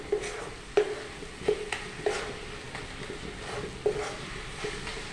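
Coconut naru being stirred with jaggery in a pan: a spatula scrapes and taps against the pan in irregular, close strokes over a soft sizzle, with no talking.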